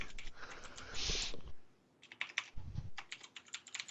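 Close computer keyboard typing in bursts of rapid key clicks, pausing briefly midway before resuming, with no talk.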